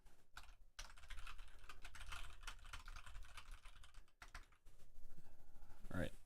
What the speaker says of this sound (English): I also need to switch over my keyboard, otherwise you hear the clickety-clack.